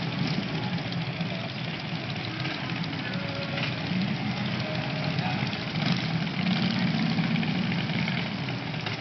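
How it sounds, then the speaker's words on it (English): Motorcycles drive past on a rainy street in Encinitas, California, a continuous rumbling engine drone under light traffic noise with someone talking over it. "you can probably hear those motorcycles better than you can hear me"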